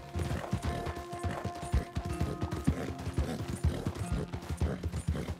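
Horse hooves clip-clop in a steady walking rhythm in the video game Red Dead Redemption 2, close and distinct, mixed with creaking tack and mechanical clicks.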